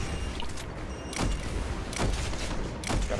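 Gunfire in a video game, a few bursts of sharp rapid shots at moderate volume over a steady background hum.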